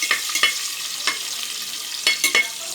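Onions fry in hot oil on a stove over high heat, a close crackling sizzle broken by several sharp scraping stirs of a spoon in the pan, with no voices.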